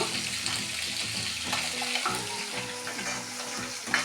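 Steady crackling sizzle of fish, including snakehead, frying in hot oil fills the whole stretch, with faint clinks and stirring noises over a low hum.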